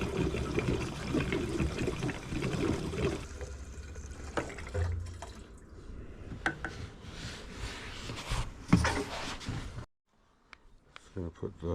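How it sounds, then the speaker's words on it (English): Fuel pours from a jerry can into the tank of a 1984 Yamaha Virago 1000 motorcycle, a close gurgling trickle that fades and surges unevenly for about ten seconds, then falls quiet. "There's about a third of this jerry can left in here, so I'm just going to pour it in."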